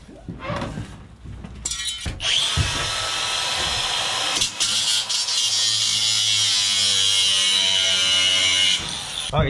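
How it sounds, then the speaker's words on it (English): A power driver whines loudly and continuously while tapping screws into a cargo trailer camper, after a few short clicks and bursts at the start, then stops abruptly near the end. "He's gonna tap these screws in."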